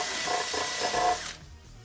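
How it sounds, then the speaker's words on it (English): A power drill pre-drills a screw hole through wood to mount a gem box, whirring loud and close for just over a second before it stops abruptly. "Pre-drill 4 holes for mounting the gem box."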